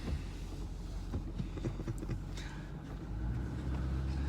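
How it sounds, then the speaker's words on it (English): Riding inside a big truck gives a low, steady engine and road rumble with faint rattles and knocks, quiet and continuous throughout. "We're going for a ride in the big truck."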